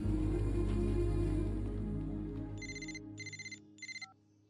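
A mobile phone ringtone in a Telugu film scene, three short bursts of a bright electronic trill coming in over a fading low hum, followed by a brief lower tone, faint and alone.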